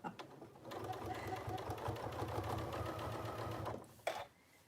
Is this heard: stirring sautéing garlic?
no